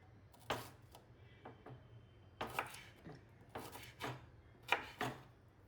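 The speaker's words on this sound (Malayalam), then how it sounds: "എല്ലാം കട്ട് ചെയ്തെടുക്കാം." Sharp knife strikes chopping small shallots on a cutting board for Onam ulli theeyal, a kerala onion curry, come in loose bursts of several quick cuts, close and fairly quiet with a low hum beneath.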